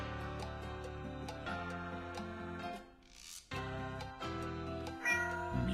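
A cat meows in a video game, a series of short, close, tonal calls over a steady musical backdrop with ticking, a brief quiet gap midway, then more calls.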